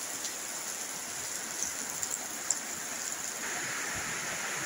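Steady rain falling outdoors in a hilly village in Bone-Bone, Enrekang, a continuous soft hiss of drops on surfaces with no break and no voices.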